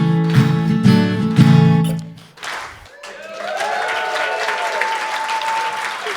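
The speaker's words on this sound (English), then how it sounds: "Thank you for clapping." Audience applause fills a conference dinner room after a sung performance, a dense steady clatter of many hands that follows the last sustained musical notes and continues loud and even to the end.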